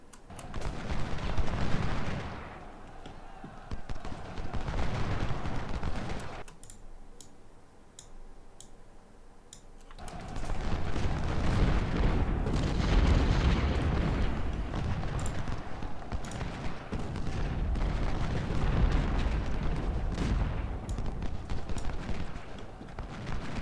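Cannon fire and musket volleys rumble through a Civil War battle in the Ultimate General strategy game at South Mountain: dense, continuous crackling gunfire with a brief quieter lull in the middle.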